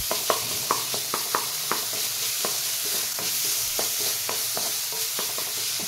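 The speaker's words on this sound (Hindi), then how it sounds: "अब बस इसको अब हम अच्छे से मिक्स कर देंगे" Amla (Indian gooseberry) is stirred with spices in a pan over low heat: repeated scraping strokes of a spoon over a soft, steady sizzle, close by, with no talking.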